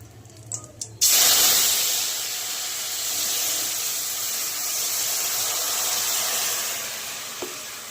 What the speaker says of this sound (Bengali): এই যে আমি তরকারিটা সম্বরণটা দিলাম